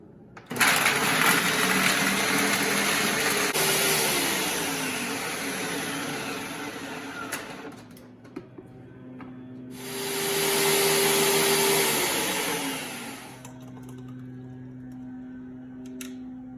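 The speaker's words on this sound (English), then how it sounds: "So now I'm just gonna blend it in the blender" A motorized blender making a smoothie whirs loudly in two long bursts, its pitch dropping as each winds down, with a low hum continuing between and after.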